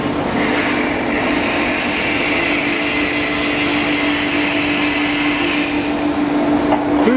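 A foam cutting machine slices memory foam into thin sheets of 0.5 to 2 mm, giving a loud, steady mechanical whir with a constant hum tone that runs unbroken from start to finish.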